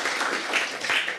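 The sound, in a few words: audience clapping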